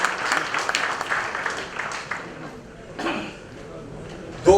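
A brief round of audience applause at a business session, moderate clapping that thins out after a few seconds, with a voice briefly heard at the end.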